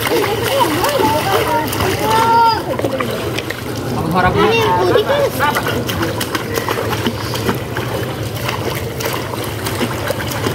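Water splashes and churns from swimming in a resort pool, steady and fairly loud throughout, with several people talking and calling over the noise.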